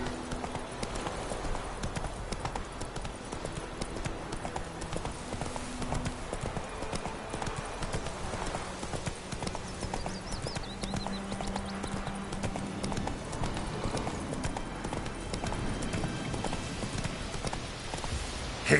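Roach, the horse in The Witcher 3, gallops continuously at a fast, even rhythm, hoofbeats close and prominent over a bed of game music for the whole stretch.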